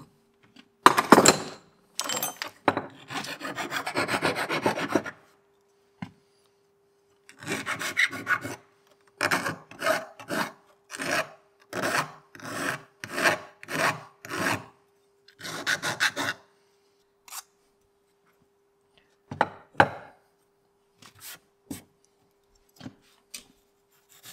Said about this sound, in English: let's just take a file to it, just get it roughly there